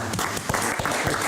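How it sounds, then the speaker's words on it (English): Short round of applause at a township board of commissioners business meeting, scattered claps from a small group heard close up. "Little applause."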